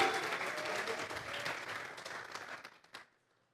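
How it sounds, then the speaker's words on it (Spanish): Church congregation applauding during a sermon: a dense burst of clapping that thins out to a few scattered claps and fades to silence within about three seconds. "Regálele ofrenda de palmas al Dios de la gloria."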